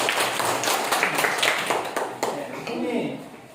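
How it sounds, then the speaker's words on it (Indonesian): Schoolchildren in a class clap for a group coming to the front, a brief burst of scattered, uneven clapping mixed with voices and classroom chatter. "Berikan tepuk tangan untuk kelompok keempat."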